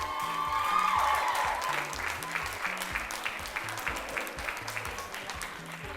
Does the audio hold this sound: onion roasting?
no